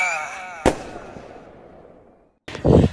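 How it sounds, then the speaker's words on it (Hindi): Diwali firecrackers bursting, a sharp loud bang followed by a decaying rumble and a second, heavier blast after a brief near-silence, with a voice heard briefly at the start. "धमाका"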